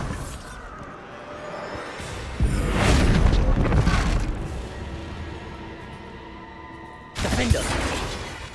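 Bombarda blasting spell in Hogwarts Legacy going off as a heavy booming explosion with crackling debris, swelling loud for a couple of seconds then tailing off, followed by a second sharp blast near the end.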